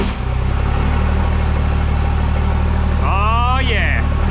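A straight-piped truck engine, exhausting straight from the headers, fires up and settles into a loud, rough, rumbling idle close by, with a brief rising rev near the end.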